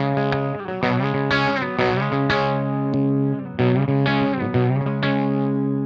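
A clean electric guitar tone comes through an AC50 amp, with loud, close chords and picked notes in two phrases separated by a brief dip. Notes ring and overlap, and no one speaks.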